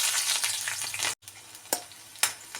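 Green chillies frying in a tablespoon of oil for egg fried rice, a steady close sizzle with a brief cutout and a few louder crackling pops as they hit the hot pan.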